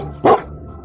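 A dog gives one short, sharp bark, loud and close, and then the sound goes quiet.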